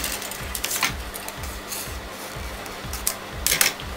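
A home sewing machine set to a long basting stitch runs in short repeated bursts, its low mechanical thump pulsing steadily about twice a second, close and moderately loud with faint rustling of fabric.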